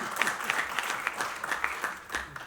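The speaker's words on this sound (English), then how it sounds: "A big applause, please, for Lord Lytton." Guests at a book launch give steady, moderately quiet applause, distinct claps pattering throughout the short burst.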